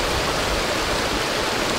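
Steady, loud broadband rush of a flowing freshwater river current in Aklan, continuous and close with no pauses.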